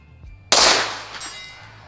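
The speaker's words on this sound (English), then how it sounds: "the trigger on it makes it so easy to shoot for precision" A single sharp shot from a Laugo Alien pistol, one loud close crack at the onset followed by a decaying ringing tail, with no talking.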